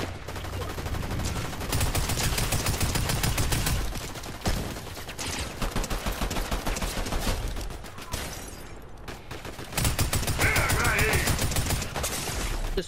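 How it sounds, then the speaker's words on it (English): Rapid bursts of assault rifle fire in Fortnite, loud and close, coming in several long volleys separated by brief pauses, with other game effects in between. "What the heck is this assault rifle?"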